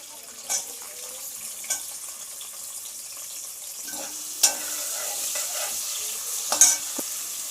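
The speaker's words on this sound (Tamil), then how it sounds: "சோம்பு பொரிஞ்சதும் வெங்காயம் போட்டுக்கலாம்" Quiet sizzling of oil in a pan with fennel seeds and onions frying, a low steady hiss broken by a few sharp clinks and taps of a utensil.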